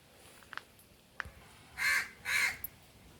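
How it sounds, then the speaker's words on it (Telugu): A crow lets out two loud, harsh caws in quick succession, preceded by a few faint clicks and softer sounds in a quiet outdoor backyard setting. "ఒకవైపు కాకి చూసారా?"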